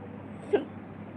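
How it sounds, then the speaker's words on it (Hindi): A single short hiccup, close and fairly faint, rises briefly out of a quiet room's low background hum. "हिचकी आवत है"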